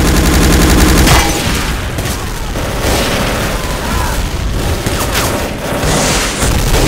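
Grenade blast and gunfire in the World War II shooter Day of Defeat: Source, opening with a loud heavy boom that gives way to dense, continuous rattling shots and crackling bursts, all fairly close and loud.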